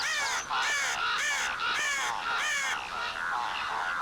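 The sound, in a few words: birds calling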